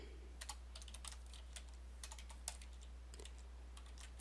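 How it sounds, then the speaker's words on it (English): Soft, close clicks of typing on a computer keyboard come in irregular bursts of keystrokes over a steady low hum, quiet and with no talk. "My C is sticking on my keyboard."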